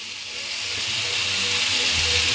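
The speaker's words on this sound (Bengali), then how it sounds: "এই যে পেঁপেটাকে আমি ভাজা ভাজা করে নিচ্ছি।" Papaya fries in a pan with a steady, hissing sizzle that swells slightly louder over the short stretch, with no speech over it.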